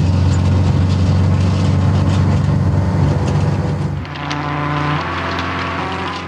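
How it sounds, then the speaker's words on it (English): Car tyres roll over a singing road surface cut to play the bridal march, a steady droning hum with shifting tonal pitches under the engine rumble, changing note partway through, no talking. "The wheel of the car is knocked at the correct frequencies, and it plays the song that every happy couple wants to hear"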